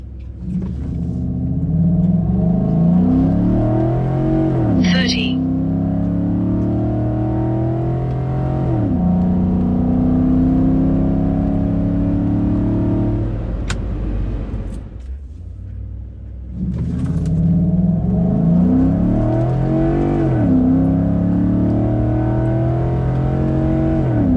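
Coyote-powered Ford F150 truck and a supercharged Oldsmobile Cutlass making racing runs, engines revving hard through rising gear pulls with shift breaks, a brief drop near the middle, then another loud full-throttle run; no talking.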